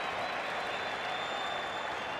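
A cricket crowd at an Ashes Test applauds tail-end batting with steady, dense clapping that fills the whole moment at an even level.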